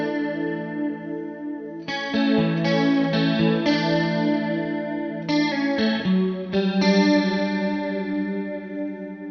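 Electric guitar chords ring through a DOD Ice Box chorus pedal with every knob turned fully right, giving a lush, wobbling shimmer; several strummed chords start around two, three and a half, five and a half and seven seconds and sustain loudly, with no talking.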